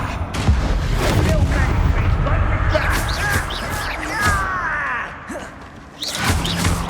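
Confringo fire spell explosions in Hogwarts Legacy amid a chaotic combat mix: a constant rumble of blasts and crackles with bright whooshing streaks and sharp impacts, voices calling out partly over the din, a brief lull near the end before another burst.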